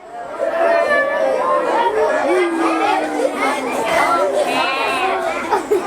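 A classroom of young children bleat a chorus of 'meh' sounds together while imitating a donkey's bray, overlapping and wavering, with busy chatter underneath.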